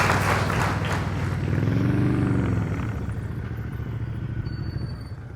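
A motorcycle engine revs high during slow-speed riding practice, a loud close buzzing drone with a rising swell that eases off as the bike moves away.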